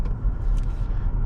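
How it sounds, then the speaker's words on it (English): Toyota Tacoma TRD Sport engine revving at high RPM, a loud, steady low rumble heard from inside the cab without break. "hearing all the engine noise"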